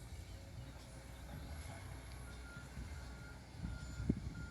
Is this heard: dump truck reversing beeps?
yes